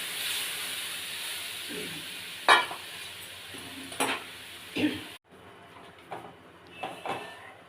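A tangy broth of boiled raw mango with mustard, turmeric and salt bubbles in a wok, making a steady hiss with a few spoon clinks and stirs, then quieting partway through.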